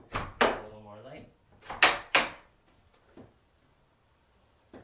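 The door of a newly built and installed Denco bunkie shed is opened, giving a creaking swing and several sharp knocks and bumps close by, with talk over it.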